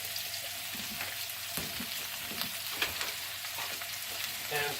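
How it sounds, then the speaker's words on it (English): Two cloves of minced garlic sizzle in a pan during keto chow mein cooking, a steady faint crackle with scattered clicks and light scraping, no talking. "We are adding 2 cloves of garlic"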